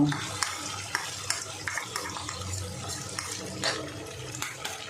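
Masala with ground cashew paste stirred and fried in a pan for a vegetarian potato paneer curry, a soft continuous sizzle broken by scraping spatula strokes and occasional light clinks, close and steady with no talking.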